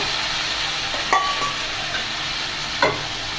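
Tomatoes are frying with ginger paste in a pan for a dry prawn and egg curry, giving a steady sizzle broken by two distinct spoon-stirring scrapes, with no speech.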